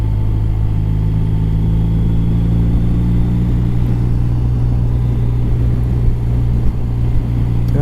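A BMW R1250 RT motorcycle cruises along a loop road near Inverness and Invergarry, its engine a loud, constant hum blended with heavy wind rush throughout, heard from a bike-mounted position with no talking.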